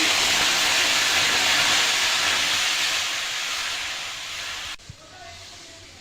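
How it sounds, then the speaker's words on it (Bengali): Water heating in a kadai (wok) for rice-flour payesh dough gives a steady, loud hiss with a roar like steam, easing off near the end. No one speaks. "এবার জল দিয়ে দেব জলটা গরম করে নেব"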